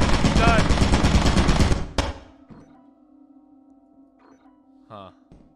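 Dense rapid gunfire bursts from Lethal Company for about two seconds, loud and rattling, then a sudden stop leaving faint game ambience and a few small clicks and tones.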